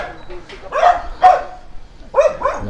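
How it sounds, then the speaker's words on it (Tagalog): Many dogs bark in a ragged series of sharp, close barks and yips, some overlapping, with short pauses between clusters. "Daming aso."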